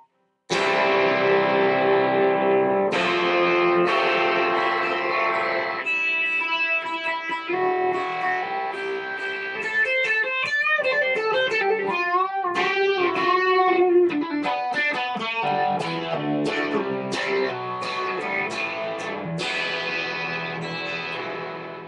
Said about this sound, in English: And this is the twin channel when it's distorted. This is modeling a Fender Twin Reverb.